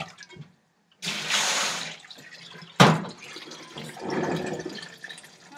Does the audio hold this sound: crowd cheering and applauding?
no